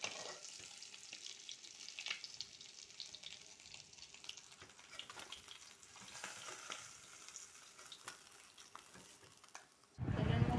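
Cumin seeds, bay leaf and dried red chilli temper in hot oil in a wok, a soft steady sizzle and faint crackling close by, ending in a sudden louder hissing surge.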